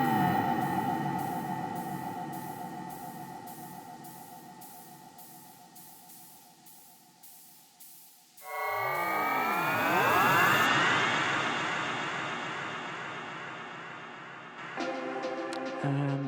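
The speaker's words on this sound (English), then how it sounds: "FX number 3, which is just the Plankton Winter Modular Zaps, again, with some filtering, reverb, autopan" Synth effects from Plankton Winter Modular zaps with filtering, reverb and autopan: a sustained tonal drone with pulsing high ticks gives way to loud sweeping, swooping zaps, followed by a brief stuttering burst near the end.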